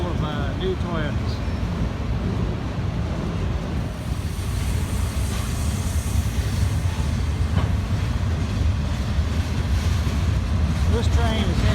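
Freight train rolling west toward St. Louis through Princeton, Indiana, likely hauling new Toyotas: a steady, loud rumble of wheels and cars passing close by, with wind buffeting the microphone and no clear talking.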